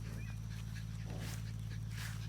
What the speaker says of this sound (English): This is Jeremy's mama's dog, and he's just fell in love with me